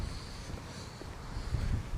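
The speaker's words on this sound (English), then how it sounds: "And it is kind of windy." Wind buffets the microphone on a Los Angeles beach during a surf fishing outing, a steady low rumble with gusty swells that grow slightly stronger toward the end, heard alone without talk.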